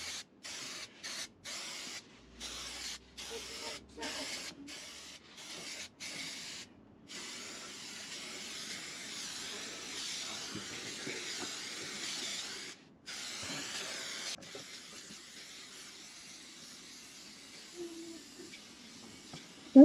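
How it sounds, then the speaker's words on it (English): Adhesive sprayed from a can onto the floor of a VW T5 camper van before vinyl flooring goes down, heard as repeated short hissing bursts with gaps, then longer continuous spraying, close and steady. "Right, so we're going to spray both sides, do about half of this."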